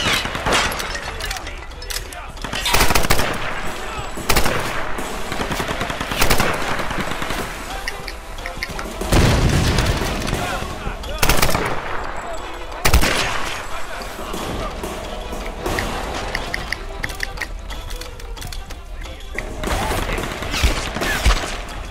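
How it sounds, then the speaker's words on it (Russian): Gunfire in the Tomb Raider video game, loud sharp shots and bursts scattered unevenly through the stretch amid impacts, with someone talking over the action at times. "Где он там стрелял?"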